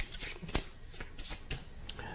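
A small deck of ESP symbol cards is shuffled by hand, giving a series of crisp riffling snaps and soft flicks close by in quiet surroundings.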